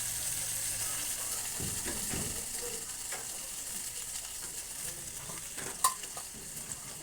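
Goat meat sautéing in a pan over a low gas flame, a steady soft sizzle with occasional scrapes and stirring clicks, close and continuous with no talking.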